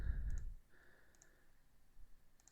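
A computer mouse clicks on the Go button of an online teacher-details form: a few faint, crisp clicks spaced apart over a quiet background, with no talking.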